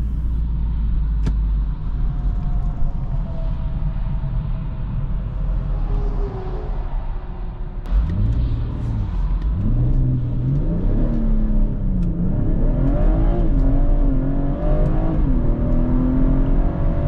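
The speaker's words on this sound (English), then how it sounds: "I will now attempt to do launch control onto the Autobahn." A BMW 440i does a launch-control start onto the Autobahn: a loud, close engine idles and then surges hard, its note climbing through the gears with rising revs and brief dips at the shifts, and no voices.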